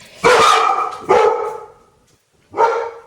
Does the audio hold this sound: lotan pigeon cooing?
no